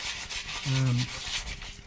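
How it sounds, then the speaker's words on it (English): Steady abrasive rubbing of 120-grit sandpaper by hand on aluminium motorcycle parts, close and continuous, with a brief low tonal hum partway through. "probably 20 minutes all up with this 120, just sanding away"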